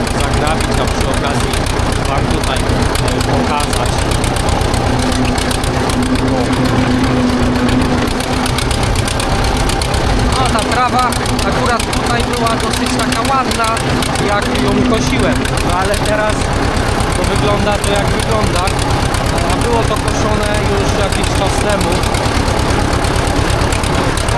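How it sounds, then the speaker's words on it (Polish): A tractor engine runs steadily and loudly while driving over an unmown autumn meadow during grass raking, with a continuous rumbling drone throughout. "przejechać się tym traktorem"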